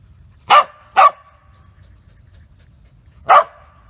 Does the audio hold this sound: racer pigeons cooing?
no